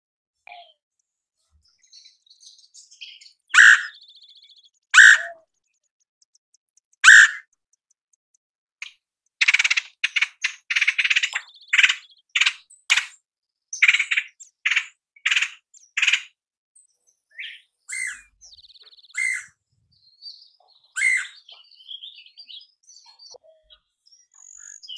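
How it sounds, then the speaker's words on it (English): Recorded calls of a red-headed woodpecker: sharp, clear calls and chattering notes in scattered bursts, some quick rattling runs in the middle, loud and close against a silent background. "Why don't you play the sound of the red-headed woodpecker?"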